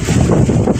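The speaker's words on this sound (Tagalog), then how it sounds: "Kusog kay hangin." Strong wind roars steadily against the microphone, a dense low rumble with constant buffeting and no pauses.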